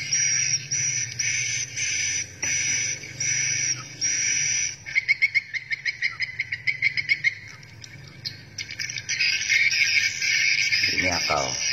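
Swiftlet chick calls from a BGA recording, a high, dense, insect-like chirping that pulses in bursts, breaks into a rapid stuttering series of chirps, then resumes steadily, fairly loud and close.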